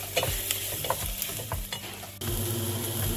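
Butter and flour stirred in a pan for cream of chicken soup, a steady close scrape and soft sizzle with repeated spoon strokes, growing slightly louder and denser in the last second.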